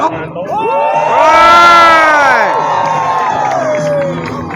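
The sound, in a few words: crowd cheering wildly in practice at a monster truck show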